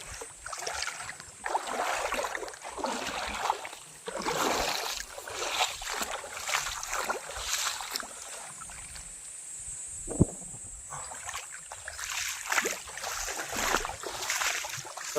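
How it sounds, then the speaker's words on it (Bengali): A boat on open water, with broadband wind and water wash surging in waves that rise and fall, plus a brief sharp knock near the middle; no talk. "এইটা হলো আমাদের নৌকা।"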